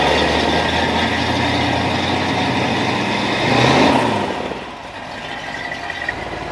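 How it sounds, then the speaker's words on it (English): A Ford Thunderbird engine running just after starting, a steady broadband rumble with a slight swell before settling to a quieter idle, heard close up with no voices. "we're going to start the car now and check the brakes"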